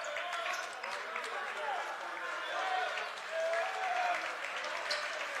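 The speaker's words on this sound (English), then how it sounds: "the crowd's letting them know" A high school boys' basketball crowd in a gym cheers and applauds after a long three-pointer, a loud, steady roar of clapping and shouting that swells and holds for several seconds, with voices mixed into the noise.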